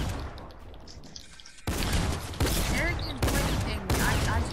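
Gunfire in Fortnite: after a quieter opening, a series of loud, sharp shot bursts rings out in quick succession, close and punchy, with voices audible.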